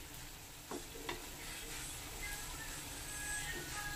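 Fish coated in masala fries in a pan, Mangalore style, giving a steady low sizzle with a few soft clinks and stirring scrapes. It is quiet and close, with no talking.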